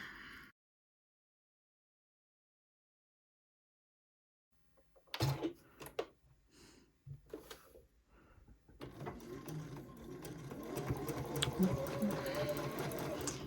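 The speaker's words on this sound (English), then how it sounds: "I'm just sewing my first 2 pieces in each row together" A sewing machine joins quilt block pieces for a Diamond Ohio Star block, with a few short clicks and bursts before a steadier faint whir near the end, quiet and close, with a voice at the very start.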